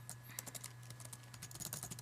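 Typing on a Mac computer keyboard, a quick run of soft, closely spaced key clicks over a steady low electrical hum, faint and close.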